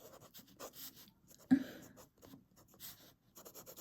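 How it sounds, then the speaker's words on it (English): Lamy fountain pen with a fine nib, filled with Diamine Rustic Brown ink, scratching faintly across paper in short strokes, close and quiet, with one brief louder tap midway. "Ooh, I like this fine nib though."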